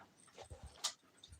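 A small puppy whimpers faintly in a few soft, brief whines and snuffles, close by in a quiet indoor space.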